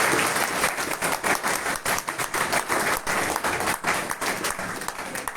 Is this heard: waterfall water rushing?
no